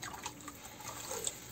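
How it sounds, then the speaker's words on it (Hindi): Water is poured into a pot of horse gram cooking for an Uttarakhand recipe, a soft, continuous splashing trickle heard close and fairly quiet, with no talking. "अब हम पानी इसमें"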